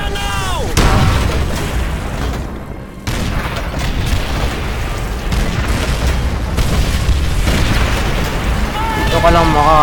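Tank cannon blasts and explosions in a Call of Duty video game, heavy rumbling booms one after another over dense battle noise, with a brief gap before the roar resumes, under excited voices.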